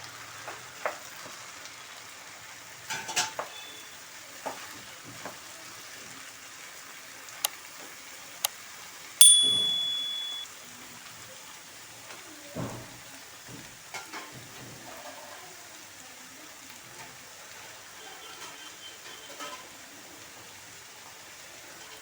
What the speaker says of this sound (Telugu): మనం తరిగి పెట్టుకున్న బీరకాయ వేసేస్తున్నాం.